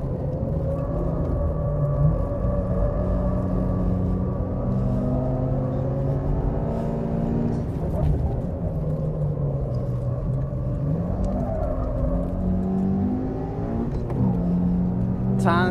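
A car laps a race circuit with its engine droning loudly and steadily, pitch climbing and dropping as it shifts through the gears, with a faint voice underneath.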